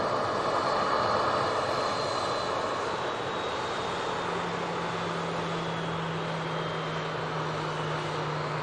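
A jet aircraft taxis at Manchester Airport, its steady engine whine and rumble holding at a constant, moderately distant level throughout with a faint tonal hum emerging partway.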